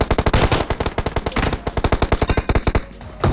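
Rapid automatic gunfire in PUBG, with loud close shots in a fast steady stream and a brief stutter midway, ending in a quick final burst.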